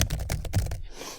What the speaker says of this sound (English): You tap your fingers against the keyboard.